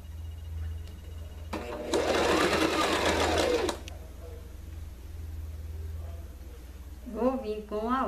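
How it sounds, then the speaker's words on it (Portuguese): A sewing machine stitches a dish towel in one loud, close burst of rapid stitching lasting a couple of seconds. Someone speaks before it and again after it stops. "Então, eu vou costurar aqui."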